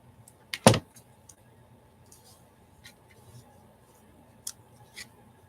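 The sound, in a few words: cutting a paper image with scissors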